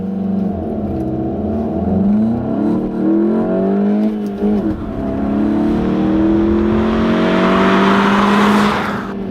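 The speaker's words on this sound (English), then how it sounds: "So here we go for a 0 to 60 run in the Mark 7 Golf with manual transmission" A manual-transmission 2018-era Mk 7 VW Golf GTI launches hard in a 0 to 60 run, its engine revving up through the gears with shift dips, loud and close, with tire noise rising toward the end.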